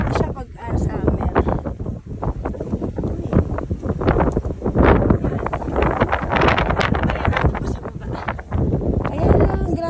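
Strong wind in a snowy place buffets the microphone with loud, gusty roaring and rumbling throughout, while people talk over it.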